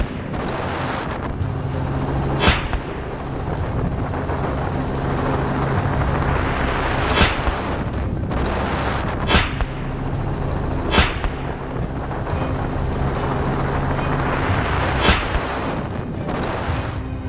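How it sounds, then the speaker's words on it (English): A low-flying helicopter over open Florida hog country drones loudly and steadily, its rumble broken by several sharp, evenly spaced bangs that sound like gunshots. "the helicopter's low altitude to reduce glare caused a lot of noise, which alerted the pigs"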